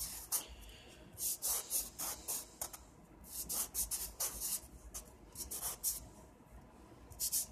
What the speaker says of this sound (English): I'm sanding through the Elzac coating.